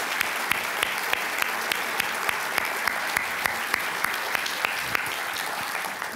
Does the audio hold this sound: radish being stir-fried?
no